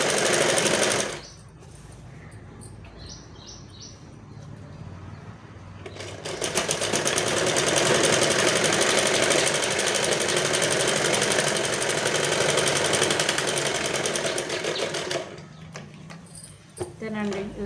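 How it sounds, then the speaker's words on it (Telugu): Sewing machine stitching a lehenga, a steady rapid mechanical whirr running loud for about nine seconds, with brief starts before it and someone speaking at the start and end. "ఇలా మనం 2 స్టిచ్చెస్ వేసుకున్నాం అనుకోండి, స్టిఫ్గా ఉంటుంది లెహంగా."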